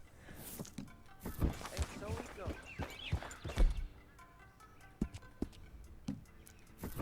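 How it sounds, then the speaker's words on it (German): Horse in the Red Dead Redemption 2 video game, with hoof thuds and snorting sounds mixed with scattered clicks and knocks, heard alongside someone talking over it. "wir haben einfach ein neues Pferd, Mann!"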